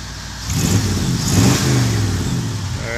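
The engine of a 1979 International Harvester Scout Traveler revs up close by. Its mid-pitched roar swells and holds, then eases back toward idle, with no talking.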